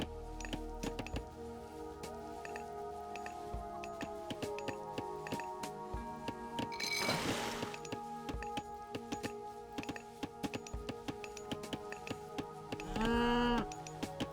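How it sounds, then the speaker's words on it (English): Cattle mooing in the Age of Mythology strategy game, one low drawn-out moo rising over a busy bed of game clicks, ticks and interface sounds, with a second shorter moo near the end. "Got some cows here."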